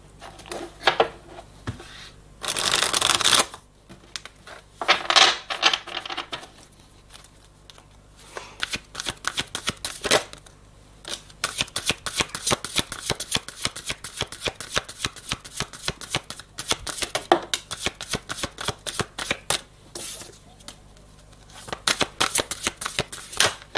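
Tarot cards are shuffled by hand for a reading, heard up close as repeated bursts of crisp riffling and sliding with short pauses between, continuing through the whole stretch and alone, without speech.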